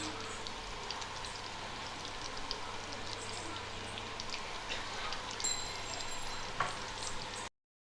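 Chicken 65 pieces frying in hot oil, a steady crackling sizzle throughout with a few louder pops and light clinks near the end, no talking.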